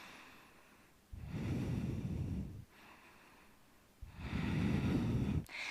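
Two long, deep breaths during a yoga stretch, each a slow, airy rush lasting over a second, separated by quiet pauses, close and steady with no talking.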